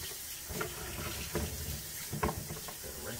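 Tap water runs into a sink as a fresh coconut is rinsed and moved around under the stream, giving a steady close splashing rush with a few louder sloshes from handling.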